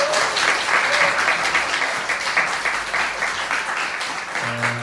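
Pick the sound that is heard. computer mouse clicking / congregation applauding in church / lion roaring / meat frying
congregation applauding in church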